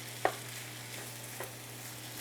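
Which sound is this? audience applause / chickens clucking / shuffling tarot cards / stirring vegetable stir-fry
stirring vegetable stir-fry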